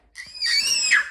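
An eight-month-old baby girl lets out a single loud, high-pitched playful scream lasting about a second, close and clear against an otherwise quiet room.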